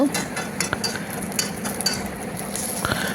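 A spoon stirring peanuts and chana dal as they fry in hot oil, with scraping and clinking against the pan over a steady sizzle, close and continuous.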